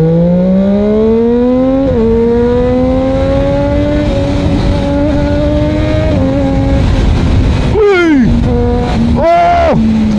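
A Triumph Daytona superbike engine revs loudly and close by, with a steady, rising, buzzing howl broken by short gear-like dips, then two sharp throttle blips near the end.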